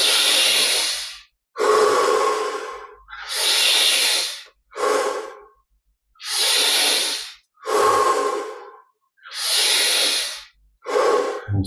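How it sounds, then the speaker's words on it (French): Deep, slow breaths during a guided meditation session, eight long hissing inhale-exhale bursts in a steady rhythm, close and fairly loud, with short silent pauses between them and no talking. "on prend un petit peu plus d'air à chaque respiration"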